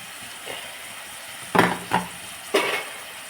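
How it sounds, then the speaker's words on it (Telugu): Salt being stirred into a tomato curry in a pan, three quick scraping stirs of a spoon against the vessel over a soft background sizzle, no talking. "కొంచెం ఉప్పు కూడా కళ్ళుప్పు ఒకసారి కలిపేసి"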